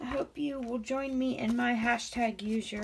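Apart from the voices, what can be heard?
No everyday noise stands out behind the speech.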